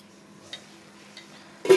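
A lid goes onto a cooking pot of vegetable curry with small shrimp paste: two faint taps, then a sharp, loud metallic clang as it settles into place near the end.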